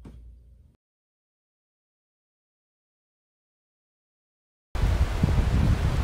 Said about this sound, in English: I'm sure the wind's too bad for you to hear me very well